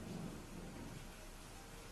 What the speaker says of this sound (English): with rain drumming softly on marble